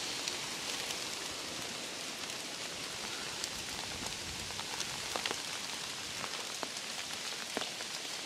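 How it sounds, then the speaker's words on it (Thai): Light rain falls on a forest trail, a soft continuous patter with scattered sharper drops tapping nearby, probably on an umbrella, quiet and steady throughout with no talking. "โชคดีฝนไม่หนักยังเบาอยู่ร่มแรงนะครับแต่ฝนไม่หนัก"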